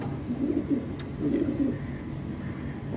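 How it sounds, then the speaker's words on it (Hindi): A pigeon kept at home coos in two soft, low rolling phrases close to the microphone, over faint room noise, with no talking. "ये मेरे घर से आया हुआ कबूतर है।"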